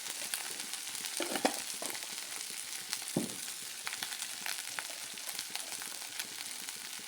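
Chili peppers fry in a pan with a steady, fairly quiet sizzle, broken by a couple of brief stirring scrapes, and no voices over it.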